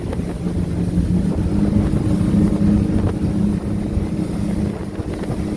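A used 2014 Grady White 228 boat with a 250 outboard running at full throttle on breezy water, a loud steady engine drone and hull rush mixed with heavy wind buffeting on the microphone, continuous throughout.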